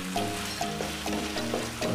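Balado spice paste frying in a pan while being stirred, a close sizzle with repeated scraping strokes of the spoon in a quick rhythm.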